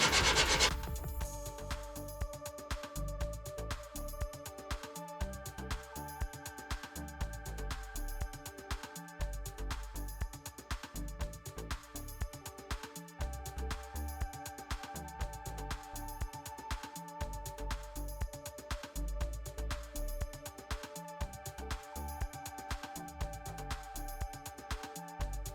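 Steady close-up sanding of a 1949 Jeep Willys steel body panel with 80-grit paper, a continuous loud rasping scrub with rhythmic back-and-forth strokes and a few brief pauses, no talking.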